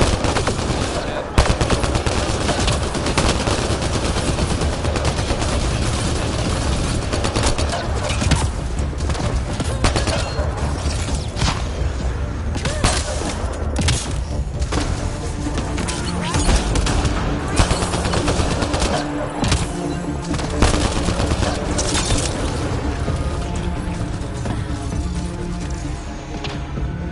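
Outlaws fire guns in a video game, long stretches of rapid automatic and single shots crackling continuously and loudly, with occasional heavy impacts and some speech beneath.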